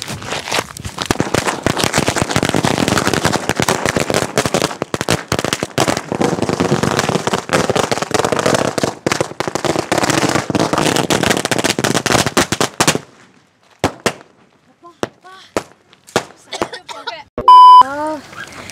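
A long string of Diwali firecrackers crackles in a rapid, loud barrage for about twelve seconds, then thins to a few scattered pops and a brief beep.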